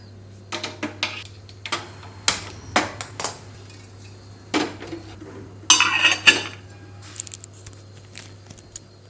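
A pot is handled in a home kitchen while two eggs are put on to boil, producing irregular close metallic clinks and clatters of cookware over a low steady hum.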